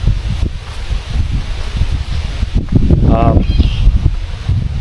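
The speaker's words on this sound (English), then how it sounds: "It's cloudy and it's windy" Wind buffets the microphone in gusty, rumbling bursts at a lake boat ramp, loud and close, with a brief faint whistle partway through.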